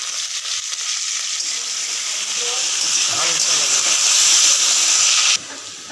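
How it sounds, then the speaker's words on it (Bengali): Onions, with potatoes to follow, fry in hot oil in a pan, making a loud steady sizzle and hiss that swells midway as the food is stirred, then drops off abruptly near the end. "তেল দিলাম, হালকা পেঁয়াজ দিয়ে দিলাম। পেঁয়াজ হালকা হয়ে যাওয়ার পরে আলুটা দিয়ে দিব।"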